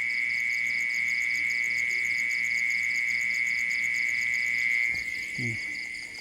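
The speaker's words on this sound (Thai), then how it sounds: "มีจิ้งหรีดร้องนะ" Crickets chirp at night outside a rural home, a steady, piercing trill with pulsing rhythm that carries on unbroken, with a faint low voice briefly near the end.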